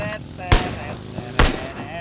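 Two sharp, loud gunshots about a second apart ring out in a Valorant match, each a broadband burst over steady game background sound.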